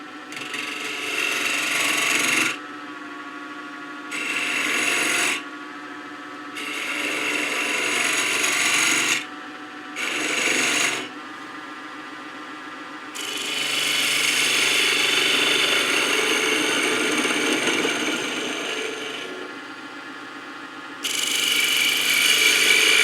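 A power sander works the bottom of a wooden sea urchin ornament in loud bursts, several short runs broken by pauses, then one long steady stretch and a final burst, with no voices.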